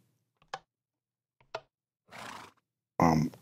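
A horse in the Minecraft video game gives short snorts and then two neighs, four separate close, clear calls spaced across a few seconds of quiet, the last one the loudest.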